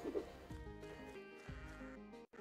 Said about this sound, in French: il y a des moutons noirs.